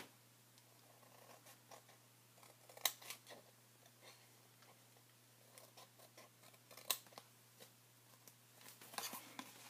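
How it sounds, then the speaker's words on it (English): Scissors cut a small sliver of paper for an exploding photo box, making quiet, close, irregular snips and crisp blade clicks with pauses between cuts. "you can cut out just sort of a little sliver here"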